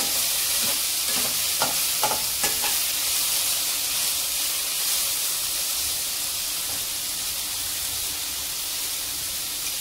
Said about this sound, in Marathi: आता छानसं फ्राय होऊ देते. थोड्या भाज्या याच्यामध्ये शिजू देते.